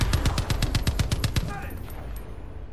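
A mounted turret gun in Far Cry 5 firing a rapid, evenly spaced burst of about a dozen heavy shots, loud and close, then stopping and trailing off into quieter ambience.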